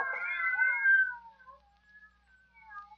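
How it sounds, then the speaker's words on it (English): Half a dozen cats shut in a room, one loud, close drawn-out meow followed by fainter wavering caterwauls trailing off, no voices. "some fiend, knowing her deadly fear of cats, has locked her in here with half a dozen of them"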